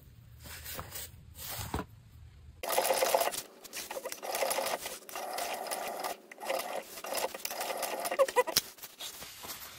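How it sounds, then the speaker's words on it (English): Sewing machine topstitching the curved edge of a laptop bag pocket: after quiet handling noises and a brief pause, the machine starts up close and runs in several steady bursts of rapid needle clatter with short hesitations. "So now we're going to take this to the machine and top stitch just the curved portion here."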